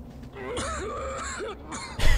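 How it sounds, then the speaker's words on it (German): A wounded character in the Baldur's Gate video game coughs up blood, giving strained, wavering groans and rasps, with a harsher, louder cough-like burst at the very end over a low game ambience. "Ich huste Blut."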